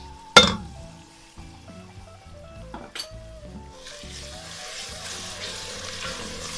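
Onion, garlic and ginger masala fries in a pan, opening with a sharp clink of utensils and a few scrapes and stirs before a steady, soft sizzle builds and continues.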